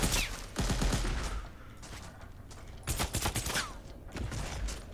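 Silenced rifle fire in a video game comes as bursts of rapid, fairly close muffled shots, with short pauses between volleys and a steady background din.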